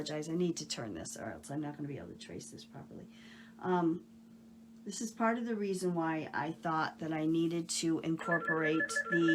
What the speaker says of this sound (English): oh, I apologize for the phone ringing.